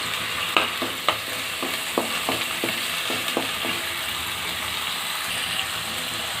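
Steady sizzling of onion, ginger, garlic and green chili frying in hot oil, with a scattering of sharp clicks and scrapes from stirring in the pan.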